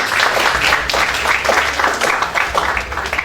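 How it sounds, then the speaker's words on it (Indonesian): A church congregation at a GSJA Batu Tulis Sunday service claps together in a brisk, uneven burst that rises and dips over a few seconds, with scattered voices mixed in. "Jadi kita tepuk tangan dulu yuk buat Tuhan kita"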